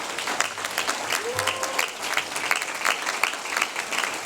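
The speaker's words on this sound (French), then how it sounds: "Vous pouvez les applaudir." Audience at a municipal New Year's wishes ceremony in Roquefort-la-Bédoule applauds honorees, steady moderate clapping from a crowd in a hall, continuing throughout with a voice speaking over it.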